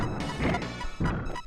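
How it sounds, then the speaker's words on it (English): Punchy crashing impact effect in the Super Bomberman video game as a skull is dropped, two heavy thwacks about half a second apart amid busy game music. "I also like the sound effect for when he drops the skull. It sounds like he's punching the skull."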